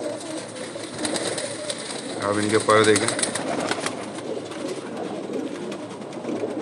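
Pigeons of a large-bodied breed cooing in a loft, a short run of soft throaty coos in the middle, under and between a voice talking nearby.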